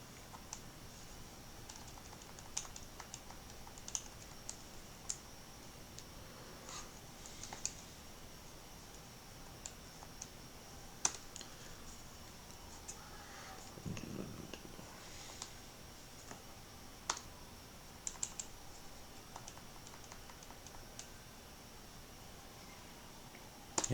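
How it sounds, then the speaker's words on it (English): Sparse, faint keystrokes on a computer keyboard, scattered clicks with pauses between them over a quiet background hiss. "I'm going to type here for a second, so you'll hear me go quiet for a second."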